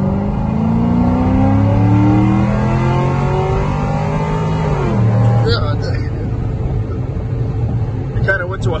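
Turbocharged Honda D16 car accelerating hard through the gears on a boost pull, loud engine note rising steadily before a shift around the middle, with turbo whoosh and blow-off chatter afterward.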